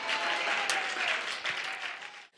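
A church congregation claps in praise during a Korean night service, a sustained even wash of many hands that holds steady and then cuts off abruptly at the end.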